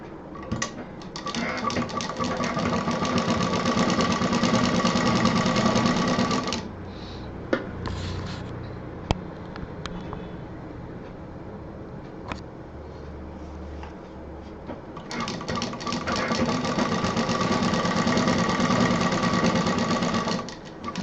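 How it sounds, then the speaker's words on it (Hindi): A sewing machine runs steadily, stitching folded fabric edges for a handmade purse. It whirs loudly in two long runs, with a quieter pause of handling clicks between them. "इसको सिंपल मोड़ के ऐसे बराबर से सिल देना है।"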